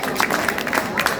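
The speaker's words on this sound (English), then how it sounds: "Another round of applause for her, please." An audience claps steadily after a speech at an awards event, a dense, even patter of applause heard up close with no voices over it.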